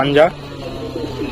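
A pigeon coos softly close by, a short low burbling call, with faint background noise after.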